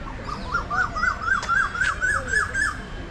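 An Asian koel calls in a rapid series of rising, whistled notes repeated about ten times in quick rhythm, fairly close and clear over a soft background hum.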